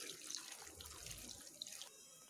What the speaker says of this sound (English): Pour 1 glass of water.